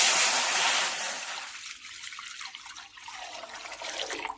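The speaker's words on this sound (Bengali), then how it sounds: "এই পাত্রের মধ্যে দিয়ে দিচ্ছি 1 বাটি পরিমাণ জল" A bowl of water is poured into a pot, a continuous splashing gush that gradually eases into a softer trickle, close and moderately loud with no talking.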